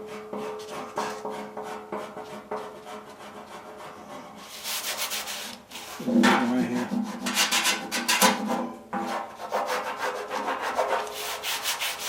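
Body filler on a 1955 Farmall Cub tractor is shaved down with a rasp, giving steady rough rubbing and scraping strokes that grow louder and coarser partway through, close by, with a brief spoken comment.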